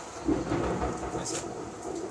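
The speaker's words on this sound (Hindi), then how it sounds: "सॉरी, बाहर थोड़ा बारिश हो रहा है, आवाज़ के लिए आपको माफ़ी चाहता हूँ आप लोग को।" Rain falls outside with a low rumble of thunder, a soft steady wash of drops and distant rolling booms, fairly faint; a voice speaks briefly.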